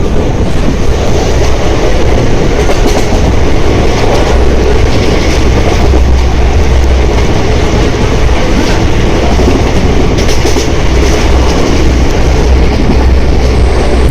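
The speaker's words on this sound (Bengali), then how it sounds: "ট্রেন এত স্পিডে ছুটছে" Fast long-distance train from Howrah toward Jasidih running along the tracks, a loud, steady broadband roar and rumble with faint rhythmic rail clatter, heard from on board throughout with no talk.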